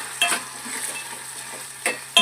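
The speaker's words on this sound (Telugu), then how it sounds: "బాగా బ్రౌన్ కలర్ వచ్చే వరకు ఆయిల్లో బాగా మగ్గనివ్వాలండి" Curry leaves and tempering spices fry in hot oil for rasam, giving a steady close sizzle with a few sharp stirring scrapes and clinks.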